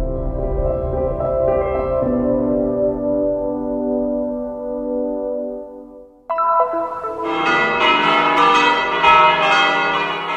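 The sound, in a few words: church bells ringing for Easter, Church of the Nativity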